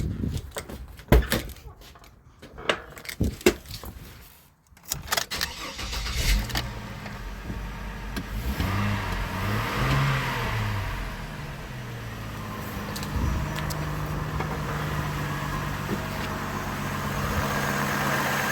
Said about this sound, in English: so I'm going to start her up and see how she runs.